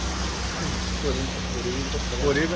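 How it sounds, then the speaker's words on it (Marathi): Heavy rain pours as a steady, dense wash of noise, close and continuous, with voices talking over it. "पाऊस एवढ्या जोरात आलाय"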